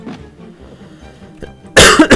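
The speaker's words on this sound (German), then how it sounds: "Oh, jetzt habe ich mitten ins Mikro gehustet." A single harsh cough blasts right into the microphone, loud and close, at the very end after a quiet stretch of low game background noise.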